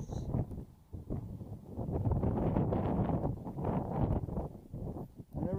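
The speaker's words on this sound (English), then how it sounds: "All right, that's pretty windy." Strong wind buffets the microphone in a steady, rumbling roar with gusty swells, loud and close throughout.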